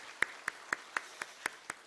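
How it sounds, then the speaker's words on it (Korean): A church congregation at a Sunday service claps in encouragement, seven crisp, evenly spaced claps in a steady rhythm, faint and somewhat distant, with no talk over them. "박수, 격려의 박수 부탁드립니다."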